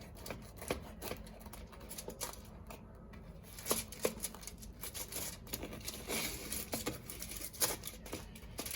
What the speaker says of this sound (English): we're going to give it a quick cut down the middle here